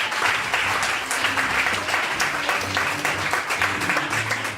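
A church congregation breaks into sustained applause, dense and steady clapping from many hands filling the space for several seconds, with no pause.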